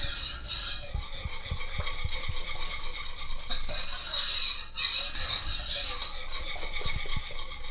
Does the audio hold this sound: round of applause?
no